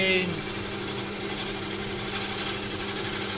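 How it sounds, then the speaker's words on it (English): A wood lathe turning African blackwood hums with a steady motor drone, while a gouge cutting the spinning wood adds a constant raspy hiss. The sound is loud and close, with someone talking over it. "twist into the lathe, twist into the lathe, that here, start twisting away from the lathe"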